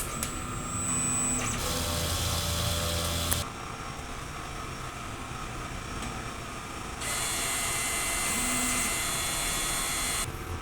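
A DTF printer running a head cleaning cycle whirs and hums in steady stretches, louder motor passages alternating with a quieter mechanical drone, with no talking.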